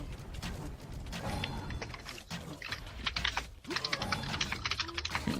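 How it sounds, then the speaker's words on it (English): Fast, hard keystrokes clatter on a computer keyboard during a Minecraft Dwarves vs. Zombies session, a dense run of close, forceful clicks with a low game rumble underneath and no talk. "Dang, some aggressive typing"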